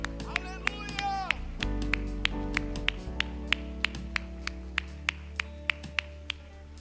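A church congregation at an Easter service claps in a steady, even rhythm. A voice speaks over the first few beats, and the claps then carry on alone.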